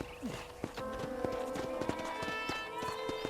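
Horse hooves clip-clop in a quick, steady walking rhythm in the video game Red Dead Redemption, close and clear, with a brief whinny near the start over a faint background tone.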